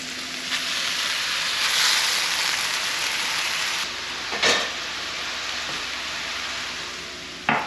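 Fresh butter sizzling loudly in a pan just after a white wine deglaze, a dense continuous frying hiss with a couple of brief louder spatters, close by and with no talking.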